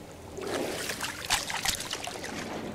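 Water in the video game No Man's Sky gives a steady, moderately loud wash of trickling and lapping, with a few brief splashy bursts midway and no voices.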